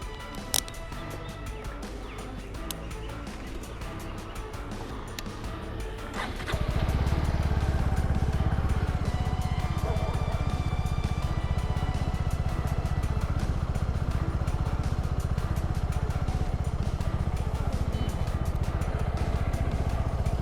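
Motorcycle riding with a camera mounted on the bike, the engine settling into a loud, steady drone after a quieter opening and rumbling on without a break for the rest of the ride.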